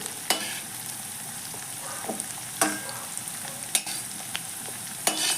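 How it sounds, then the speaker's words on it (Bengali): Jackfruit pieces frying in oil in a pan, lifted out with a spatula: steady low sizzle under several sharp scraping clinks of the utensil against the pan, nearby and fairly soft, with no talking. "বন্ধুরা দেখো, আমি এঁচোড়টাকে খুব সুন্দর করে ভেজে নিয়েছি। এবার আমি এঁচোড়টাকে তুলে নিচ্ছি।"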